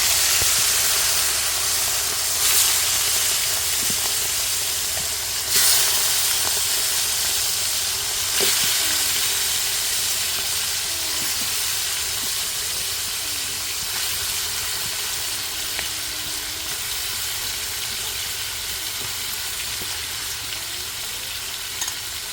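Meat and potatoes frying in a pan, a steady loud hiss and sizzle running throughout with a few sharp clicks and clatters now and then.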